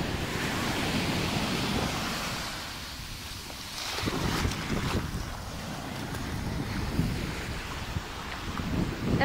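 Sea waves roll onto a northern Portuguese beach at Apúlia as the tide rises, a loud continuous wash of surf with swelling and receding surges, mixed with gusty wind buffeting the microphone.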